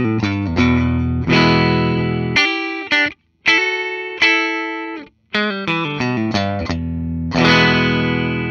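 A 1975 Gibson L6 Midnight Special electric guitar in glitter white, played through effects with distortion and chorus, rings out in loud, sustained chords and bright single notes, with two brief silent gaps between phrases.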